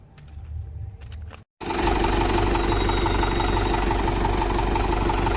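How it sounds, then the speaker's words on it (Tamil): A Mahindra 475 tractor with a 9-tine cultivator idles loudly and steadily nearby, a continuous close engine rumble that follows a short quieter stretch and a brief dropout. "இந்த ஒம்பது கலப்பை ஓட்ட வேண்டியிருக்கு"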